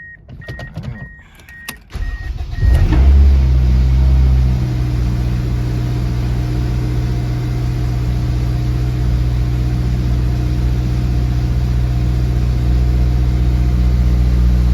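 A Honda K20Z1 Type S engine swapped into an Eclipse cranks briefly, catches and settles into a loud steady idle that runs on continuously, close by with no talking.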